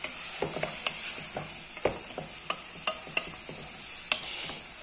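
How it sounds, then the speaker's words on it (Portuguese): Cooked rice sautéed in a pan: a steady run of short scraping and stirring strokes, roughly one or two per second, over a light sizzle, up close with no talking. "Vou dar uma refogada aqui e vou acrescentar o arroz."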